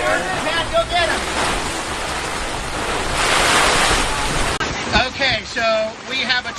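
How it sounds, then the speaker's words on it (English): Heavy torrential rain from a hurricane roars continuously with gusting wind buffeting the microphone, loud and close, while people speak and shout over it. "Okay, so we have a torrential downpour."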